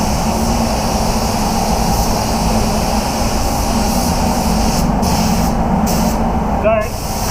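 A spray gun lays metallic silver base coat on new car parts. It gives a steady, loud, close hiss of air that runs unbroken, and ends with a brief dip and a small click.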